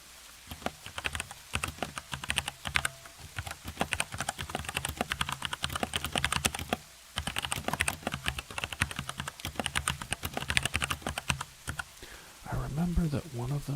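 Fingers type on a computer keyboard close up in a quiet room with bamboo forest ambience, giving dense, irregular clicks and clacks in bursts, with a short pause midway and soft talking over parts of it.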